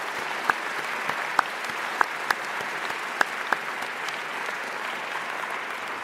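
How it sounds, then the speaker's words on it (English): Parents, families and guests at a middle school closing ceremony give teachers a round of applause, a sustained, even wash of many hands clapping with a few sharper nearby claps standing out. "please once again show our teachers your heartfelt gratitude with a round of applause"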